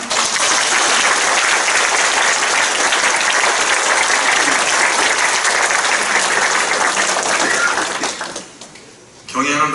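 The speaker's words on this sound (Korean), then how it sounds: "저와 함께 3년간 일을 할 사람들이 이런 박수로 격려해 주시면 바랍니다" Sustained, loud applause fills a church hall during an installation thanksgiving service for a denominational bishop, steady for about eight seconds before fading into a brief lull as the clapping dies away.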